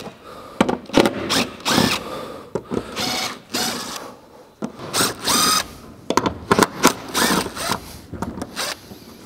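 Power tool removing the 10 mm factory roof rack bolts on a Lexus GX470, about a dozen short whirring bursts separated by brief pauses, close and fairly loud.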